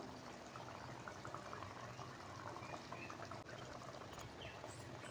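Egg curry boiling in a pot on the stove, a faint continuous bubbling and gurgling simmer with no other sounds.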